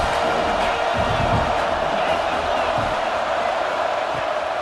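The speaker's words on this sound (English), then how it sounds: "Crowd trying to help this defense rise to the occasion." Stadium crowd in the EA Sports College Football 26 video game roaring steadily during a fourth-down defensive stand, a dense, loud wall of cheering and shouting with a commentator's voice talking over it.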